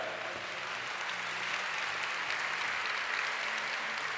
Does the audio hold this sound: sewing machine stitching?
no